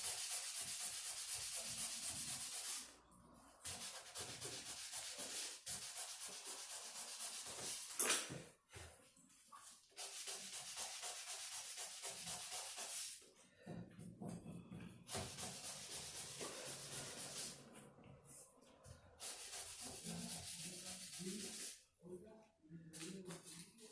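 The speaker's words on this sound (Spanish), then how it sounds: "Ahora le ponemos, lijamos con una 2000" Fine 2000-grit sandpaper rubs over a Mapuche silver jewelry piece in long, steady one-direction strokes, a close, continuous raspy hiss broken by short pauses, with a voice speaking at times.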